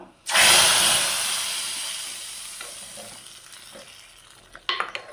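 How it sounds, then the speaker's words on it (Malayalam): Hot tempering of mustard seeds, fenugreek and dried red chillies hits a curry of jackfruit seeds, drumsticks and mango, bursting into a loud close sizzle that fades steadily, followed by a clatter of a spoon or pan near the end. "ഇപ്പോൾ കടുക് ഉലുവയും വറ്റൽമുളകെല്ലാം വറവായിട്ടുണ്ട് കറിയിലേക്കൊന്ന് ഇട്ട് കൊടുക്കാം"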